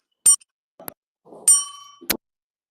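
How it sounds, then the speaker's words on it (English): A small bell is struck several times in separate short rings, with bright metallic dings and one longer ringing tone that fades out, loud and close with no talking. "maybe it's him blowing the bell for us"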